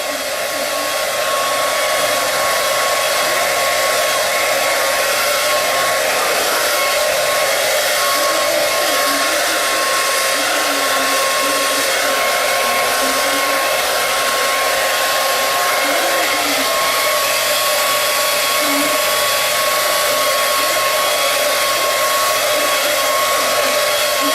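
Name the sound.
blow dryer running on warm setting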